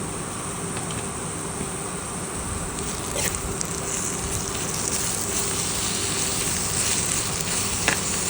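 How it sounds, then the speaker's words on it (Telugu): Brinjal pieces with turmeric fry in a pan with a steady, crackling sizzle, close and constant throughout, with no voices over it. "వేసుకొని మొత్తం అంతా ఒకసారి ఫ్రై చేస్తున్నాము"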